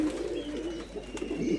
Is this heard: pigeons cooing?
yes